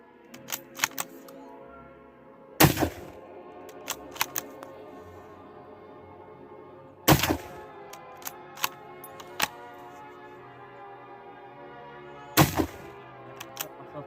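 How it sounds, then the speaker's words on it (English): Three sharp, loud cracks from a Mosin Nagant M91/30 rifle fired at bottles outdoors, spaced several seconds apart, with faint clicks and handling noises between shots. "let's do some shooting here. Shoot at these bottles."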